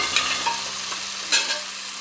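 Tomatoes and other ingredients for a mutton curry fry in a pan, a steady close sizzle with a couple of soft stirring scrapes over about two seconds, no voices.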